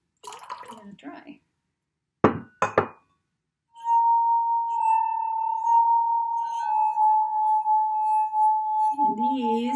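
Drinking glasses are played as a musical instrument: two quick clinks, then a sustained, clear ringing tone that holds for several seconds, with a person talking at the start and end.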